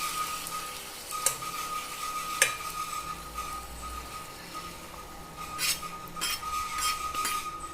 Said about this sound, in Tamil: கரண்டி போட்டு நல்லா மிக்ஸ் பண்ணிவிட்டால் போதும்